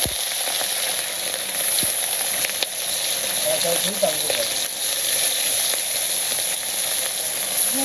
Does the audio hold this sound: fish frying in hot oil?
yes